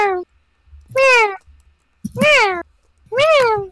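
A human voice imitates a cat, giving three loud, drawn-out meows separated by short silent pauses.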